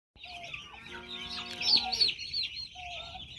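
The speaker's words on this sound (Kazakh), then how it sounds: "Тауықтар осы." Farmyard chickens, a hen with her chicks, clucking and trilling close by in a rural summer pasture setting, a few drawn-out calls rising in the middle before softer clucks, faint overall.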